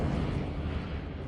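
A Confringo fire spell blasts in Hogwarts Legacy as a short, low, rumbling burst that stays dense and steady for about a second, moderately quiet, with no speech.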